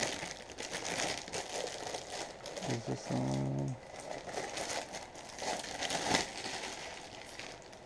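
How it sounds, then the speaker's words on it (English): Crinkling, tearing plastic bag close up while unpacking hard drives for a WD EX2 Ultra, with brisk rustles throughout and a short voiced remark partway through. "Well, butchered the plastic bag"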